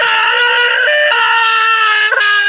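A man lets out one long, loud, sustained scream, high and strained with a few pitch breaks, close up and alone.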